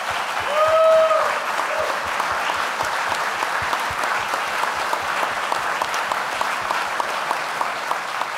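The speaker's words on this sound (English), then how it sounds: "we can give them another round of applause" A large audience at the 2018 Tewaaraton Award ceremony applauds scholarship recipients, with sustained, dense clapping that holds steady and loud throughout and has no voices over it.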